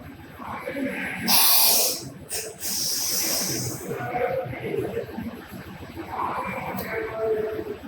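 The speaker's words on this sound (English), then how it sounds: "then you have to spit it out" Tea spat out in a forceful spray during a tasting in Sri Lanka, heard as two sharp hissing bursts, the second longer, close to the listener amid quieter background murmur and talk.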